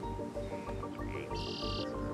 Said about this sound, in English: I can hear the bees buzzing and the birds.